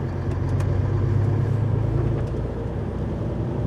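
A car drives along a road in strong wind and sleet, its steady mid-range engine rumble and tyre noise continuous and close throughout, with no talking.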